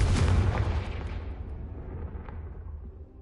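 A Confringo blasting spell in the Hogwarts Legacy game bursts as a loud, close explosion that booms heavily at first and then fades out over a few seconds, with no voices.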